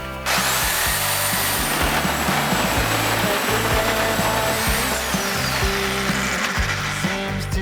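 A Dnipro-M reciprocating saw set to pendulum mode cuts steadily, its loud motor whine holding throughout with a rapid, juddering chop from the blade stroke, close and with no voices.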